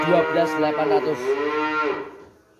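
A single long, close cow moo, loud and drawn out, fading away at the end.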